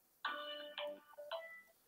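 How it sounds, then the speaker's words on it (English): A phone ringtone chimes three times in quick melodic bursts, close and clear against a quiet room, with no talking over it. "my phone's ringing"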